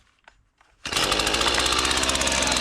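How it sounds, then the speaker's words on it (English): A chainsaw starts abruptly and runs steadily at a loud, close, constant buzz during log splitting at a bushcraft camp, with nothing else audible over it. "Then I've got my chainsaw here,"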